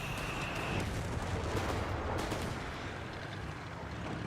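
Gunfire and a grenade blast in the World War II strategy game Company of Heroes 3, a dense, continuous roar of distant explosions and shots during a 1v1 match.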